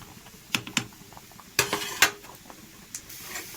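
Cooked rice being drained in a pot brings sharp metallic clanks and clinks of the pot and lid, a few scattered knocks with brief pauses between them.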